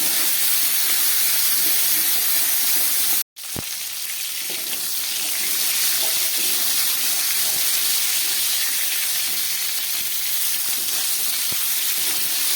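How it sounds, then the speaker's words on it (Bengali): Cauliflower pieces fry with turmeric and salt in a pan, giving a loud, continuous sizzling hiss with one brief break and a few small pops, no talking. "এবার একটু দিয়ে দিচ্ছি হলুদ, সঙ্গে দিয়ে দিচ্ছি একটু পরিমাণ মতো নুন, দিয়ে ফুলকপিটাকে খুব ভালো করে ভেজে নেব।"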